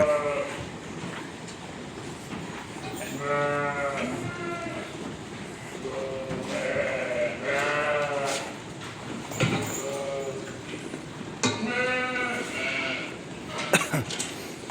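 Lambs in a fattening pen bleat repeatedly, several overlapping calls rising and falling at moderate distance over a steady background hum.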